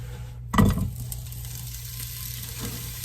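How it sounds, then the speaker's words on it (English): Sausage drops into hot oil at about 325 degrees in a pot with a sudden sizzle that settles into a steady, crackling fry, close by, with faint clinks of the pot. "You hear the sizzle?"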